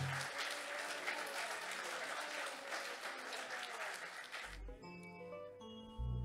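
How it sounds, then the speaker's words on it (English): A church congregation applauds in a loud, dense, steady wash of clapping that stops abruptly near the end, leaving a brief quieter tail. "Would you like to clap your hands for him?"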